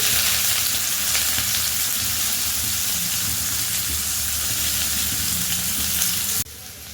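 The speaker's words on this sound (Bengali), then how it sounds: "তেল গরম হয়ে গেছে এবার এর মধ্যে দিয়ে দিচ্ছি প্রথমে আমি পেঁয়াজ কুচি" Chopped onion hits hot oil in a pan and sizzles loudly and steadily for several seconds, then the frying noise drops off abruptly near the end.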